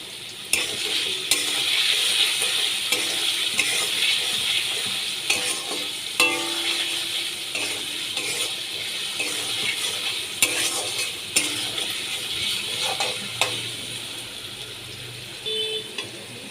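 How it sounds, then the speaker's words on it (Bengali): Potatoes fry in hot oil with a little salt and turmeric, giving a steady close sizzle with light clinks of a spatula against the pan at intervals and no talking. "আর সামান্য হলুদ দিয়ে ভেজে নেব হলুদ দিয়ে দিলাম"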